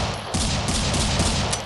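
A gun in the mobile shooter Critical Ops fires in quick bursts of close, loud cracks that run together into a dense rattle, with no voices heard.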